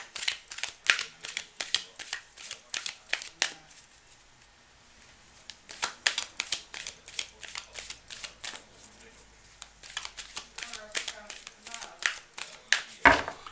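A tarot card deck shuffled by hand, producing bursts of crisp, rapid card flicks and riffles that pause midway and then resume, close and moderately loud.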